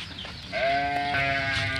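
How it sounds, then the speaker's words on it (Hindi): A sheep in a village gives one loud, close, wavering bleat that starts halfway through and holds to the end over faint background noise. "यहाँ पर हमारी भेड़ें आवाज़ करनी है"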